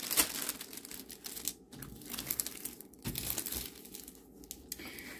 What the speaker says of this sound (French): quand je relève le plastique, là, les plis disparaissent.